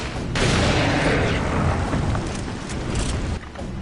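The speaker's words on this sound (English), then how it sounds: "the game gave me a rocket launcher" A rocket launcher explosion in the horror action game Resident Evil 4, a loud, dense roaring blast that fills the clip and rumbles on for several seconds with no talk over it.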